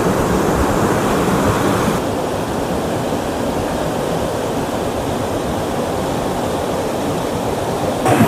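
The Rishikulya river in Odisha rushes past in a steady, loud wash of water that carries on without a break and never clearly rises or falls, with no voices over it.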